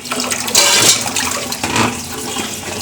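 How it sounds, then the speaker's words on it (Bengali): Water gushes and splashes while washing out the area under a kitchen sink with Harpic powder, a loud close rush with surging bursts. "পুরা সিঙ্কের নিচেরটা তলেনিটা সুন্দর মতো হারপিক পাউডার দিয়ে ধুয়ে দিতেছি"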